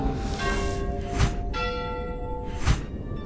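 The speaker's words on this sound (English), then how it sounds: "The bells are ringing." Church-style bells ring in the hidden-object game Modern Tales: Age of Invention, two loud, resonant strikes with long ringing tones that hang in the air.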